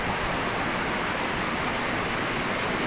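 Heavy rain pours down, with water running down a driveway beside flooded rice fields, a dense, loud, unbroken hiss of rainfall and rushing water with no voices.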